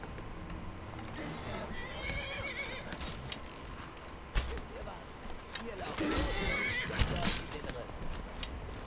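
A horse in Skyrim neighs and whinnies twice with clip-clopping hooves and combat thuds, under someone talking over the game.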